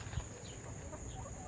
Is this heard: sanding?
no